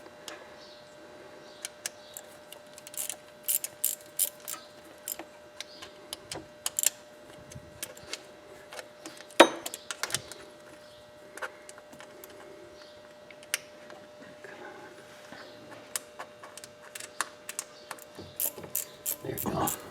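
Ratchet clicking in short scattered bursts while backing off the water pump bolts on a Mercedes C230, with sharp metallic ticks and a single louder clank near the middle, heard close up in a quiet garage.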